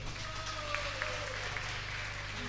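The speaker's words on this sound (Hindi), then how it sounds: "ताली बजाओ" An audience at a Shrimad Bhagavat Katha religious gathering claps, a dense, steady, fairly distant patter of many hands holding an even level throughout, with no voices standing out.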